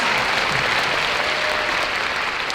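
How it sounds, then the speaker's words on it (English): Large audience of over a thousand at the opening ceremony of a world conference of women's shelters, held in an exhibition center, clapping in a loud, dense, continuous roar of applause from start to finish. "Yes, clap yourselves."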